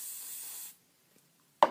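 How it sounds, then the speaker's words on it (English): Hairspray is sprayed onto a styled hairdo in one short, close hissing burst that stops after under a second, followed by quiet and then a brief click. "Now what I'm going to do is I'm going to take some hairspray."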